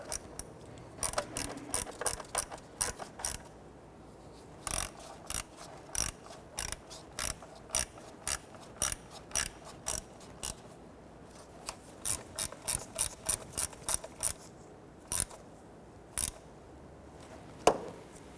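A hand ratchet snugs down the four bolts of a plastic timing cover on a 1992-1996 Toyota Camry 2.2L four-cylinder, with bursts of quick, crisp pawl clicks repeating close by across a quiet workshop.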